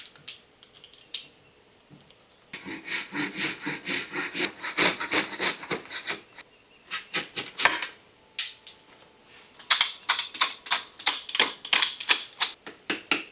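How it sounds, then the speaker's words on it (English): A handguard part on a Surron Ultra Bee electric dirt bike is sawn by hand, with rapid, rhythmic rasping strokes close by, broken by a few short pauses, and no talking. "Loosen that up and pull it out just a little bit so we can cut the end off."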